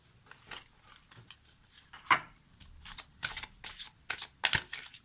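Angel oracle cards shuffled by hand in a quiet room, a run of soft papery riffles and slaps that grows busier and louder toward the end, with no talking.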